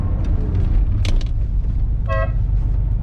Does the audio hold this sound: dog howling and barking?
no